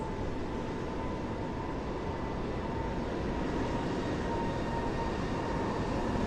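A steady, broad roar of an airliner taking off at Dublin Airport in Microsoft Flight Simulator 2020, a constant wash of engine noise with a faint tonal hum, loud and unbroken for the whole stretch without any talking.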